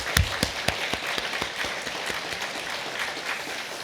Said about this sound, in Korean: 박수를 안 보낼 수가 없습니다.